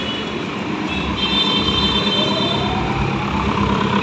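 A Senco Express toy train ride at a crowded fair in South Kolkata rumbles steadily throughout, a continuous mechanical drone with a faint whine layered over busy fairground ambience and no talking.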